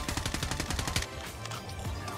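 Rapid automatic gunfire in a Call of Duty battle royale match, a fast burst of about a dozen shots lasting one second, followed by quieter game ambience.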